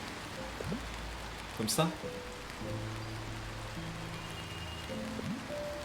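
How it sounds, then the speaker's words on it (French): Rain falling in the game Until Then, a steady soft patter under a brief spoken line and background music. "Ouais, c'est de la pluie."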